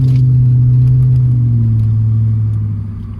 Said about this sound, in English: give it some gas while getting on the highway